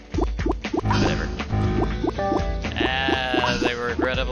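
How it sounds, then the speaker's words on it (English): Player-hit effect in the Bubble Tanks 3 video game: a rapid series of short, bleating, warbling electronic tones repeating over a steady low game hum. "The regrettable sound of getting hit."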